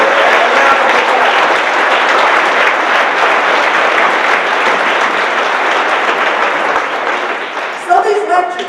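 A lecture-series audience gives a long round of applause for the city's young people, a loud, sustained roar of clapping that thins near the end as a voice begins to speak.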